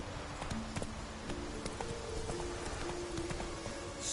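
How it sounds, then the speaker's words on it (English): Hooves of a horse galloping in The Witcher video game give a steady, rapid clip-clop rhythm at moderate volume, with game ambience beneath and no talking. "Whoa there, Roach"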